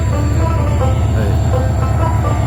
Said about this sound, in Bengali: এটা ও আমার প্রিয় একটা লোকোমোটিভ দিছে 3010